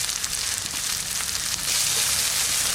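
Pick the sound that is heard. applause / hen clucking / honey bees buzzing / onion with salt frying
onion with salt frying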